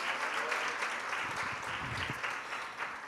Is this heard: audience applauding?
yes